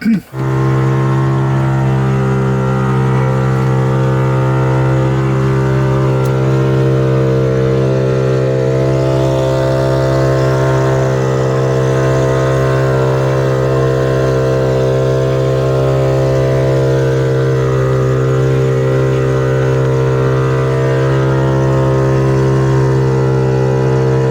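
An outboard motor on a boat runs steadily and loud throughout, a constant droning hum pushing against a strong current, with no talk over it.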